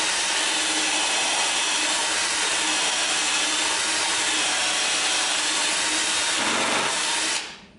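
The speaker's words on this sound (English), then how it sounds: "just line up your bit with the hole, and it'll fit in the hole perfectly" A drill with a countersink bit bores into walnut for a dining table, a loud steady whirring grind held for about seven seconds close up before cutting off abruptly.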